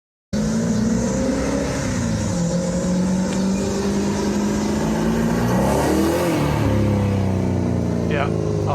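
A car engine revs up and down loudly as the vehicle drives by close, rising and falling in pitch with a sustained roar, while a person talks over it.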